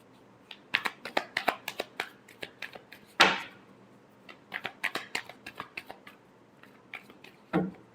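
Tarot cards being shuffled by hand in a series of quick, crisp riffling bursts, close and fairly quiet, with one sharper slap partway through and a final short burst near the end.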